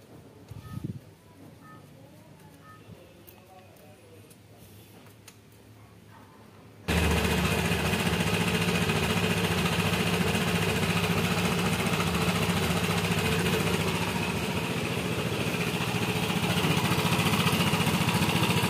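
A Vespa Matic scooter engine bursts into life partway through after quiet handling noises, then runs at a steady, loud idle with a rough, continuous exhaust drone close by for the rest.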